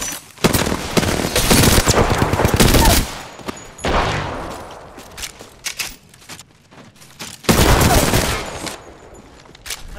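Automatic gunfire bursts loudly in the shooter game Apex Legends, long rattling volleys separated by quieter gaps with scattered single shots, heavy and close.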